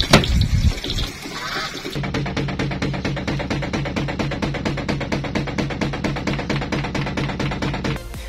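Washing machine running with unevenly arranged clothes, giving a loud, steady rhythmic thumping and banging that repeats rapidly for several seconds after a brief watery intro, then stops abruptly.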